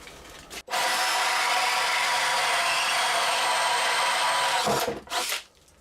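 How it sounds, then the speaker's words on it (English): A hole saw bores through the wooden top of an arcade control panel, a loud steady grinding whine that holds for about four seconds, then cuts off with a short rattle at the end. "I'm going to be hole sawing all the way through the top."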